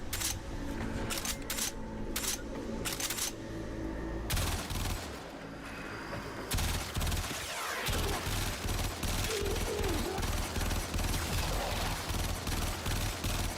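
Kuva weapon firing in the Warframe video game, rapid bursts of gunfire in quick repeated volleys, loud and close, continuing steadily with brief pauses between strings of shots.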